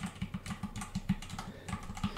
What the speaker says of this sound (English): the typing is quite nice. It's quiet,